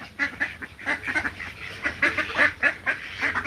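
Ducks quacking and honking after being fed, a busy flock calling in repeated nasal bursts, fairly close and loud with no talk.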